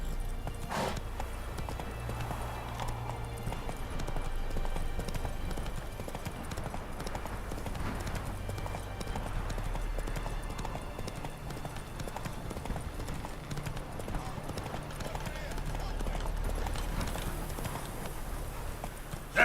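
Roach the horse galloping in The Witcher 3, hooves clip-clopping in a continuous rapid rhythm over a low game soundtrack, with faint voice lines in the background.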